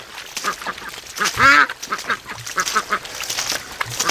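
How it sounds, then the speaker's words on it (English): Ducks quacking loudly and excitedly on a lake as they swim, with one prominent near call standing out among a busy chorus of overlapping quacks and splashy background noise. "All the ducks are going nuts down there swimming."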